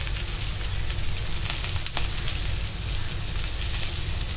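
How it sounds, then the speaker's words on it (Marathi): Rawas fish fries crisp in hot oil in a pan, Malvani style, giving a steady, loud sizzle and crackle that carries on throughout with brief pops, and no one speaks. "आता दोन्ही बाजूने छान मी त्याला असं क्रिस्पी फ्राय करून घेणार आहे."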